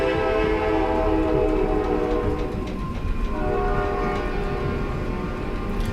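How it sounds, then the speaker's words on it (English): A long, loud train horn blares from close by over the low rumble of a passing train, holding steady tones throughout. "So if you hear a train horn,"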